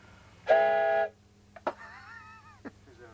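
A loud, steady whistle tone for about half a second, followed by quieter wavering tonal toots and clicks, close by.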